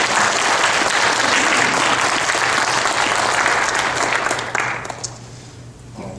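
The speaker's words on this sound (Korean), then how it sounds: "귀한 말씀 전해주신 우리 장로님께 격려와 축복의 박수를 드립니다." Church congregation applauding an elder after a sermon, a dense, sustained clapping that fills the room for several seconds before thinning out near the end.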